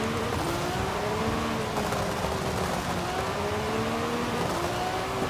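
Lamborghini Revuelto engine in Forza Horizon 5, driven in the rain, a steady mid-level engine drone with gently wavering pitch and a constant hiss of rain and road noise over about five seconds.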